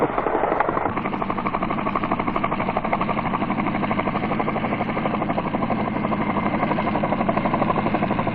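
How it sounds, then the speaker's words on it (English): Skycrane heavy-lift helicopters working over the deck of the ship HMAS Sydney off Vung Tau, Vietnam, 1968: a dense, continuous rotor and turbine drone with a fast rhythmic chop, steady and loud throughout. "Heavy items are taken off the deck of HMAS Sydney by Skycrane helicopters when these are"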